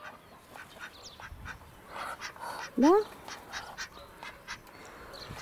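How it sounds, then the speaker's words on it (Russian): A Muscovy duck gives one loud rising call up close, standing out against a soft outdoor background, with a brief word spoken nearby. "Уточки, приуточки. А вон еще одна."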